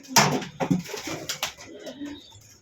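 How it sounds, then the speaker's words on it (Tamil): Racing pigeons kept for sale coo in short, close bursts with light rustling between, no talk over them. "நல்ல புறா, நல்லா பறந்தது."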